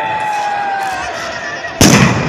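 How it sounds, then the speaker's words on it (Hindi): A single sharp simulated bomb blast at a civil defence drill on a stadium ground on Republic Day, bursting loudly near the end after a steady hum with a faint tonal whine, open-air and reverberant. "बम गिरने की आवाजें हैं"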